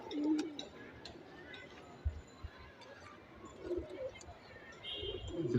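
Soft coos from racing pigeons at a tournament murmur close by among low rustling and faint background chatter, a few gentle calls spread across the stretch.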